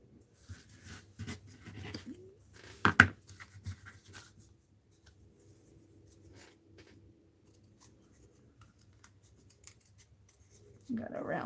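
Scissors snip through paper being trimmed for a mixed-media art journal, with a few sharp cuts early on, then quiet scratchy handling and soft rustling until a louder shuffle at the end.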